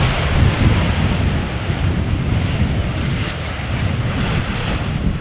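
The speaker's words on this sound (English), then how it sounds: "Iceland Air arriving from Reykjavik in the MAX 8 today." A Boeing 737 MAX 8 arriving from Reykjavik lands at Amsterdam Schiphol in a crosswind, heard as a loud, steady broadband engine roar with heavy wind buffeting on the microphone throughout.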